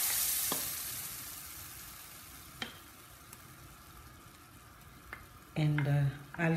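Thick peanut sauce bubbles gently in a pan, a faint low sizzle with occasional soft taps of a stirring spoon, close by, ending in a brief louder clatter.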